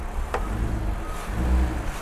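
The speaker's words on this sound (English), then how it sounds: "give a little rev, Daps. Hear that intake, boy?" Audi TT 3.2L quattro V6 revving briefly, a low, rumbling engine note with a swell of intake roar, close by and fairly steady over two seconds, with a faint sharp click near the start.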